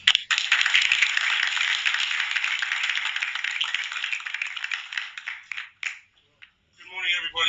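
Audience applause welcoming a speaker at a Wharton Business School event, a dense, steady burst of many clapping hands lasting several seconds before fading out, followed by a brief voice.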